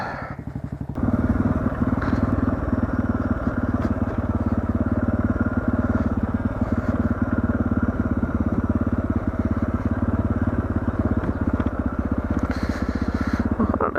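A motorcycle with a sidecar rides a dirt track, its engine a steady, continuous mid-pitched drone with faint rattling, heard alone with no talking throughout.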